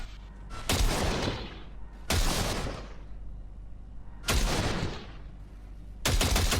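Bursts of automatic gunfire in the Cyberpunk video game, four loud, short volleys separated by brief pauses, each cracking sharply and trailing off into a reverberant tail.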